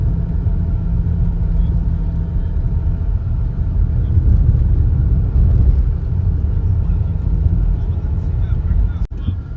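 A car drives along the Sevastopol–Yalta highway toward Yalta on Crimea's southern coast, giving a steady, close, low road rumble with engine drone that holds evenly throughout.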